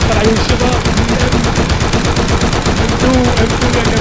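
An M2 heavy machine gun fires in a video game as one continuous, loud, rapid burst of shots that fills the whole stretch, with voices faintly underneath.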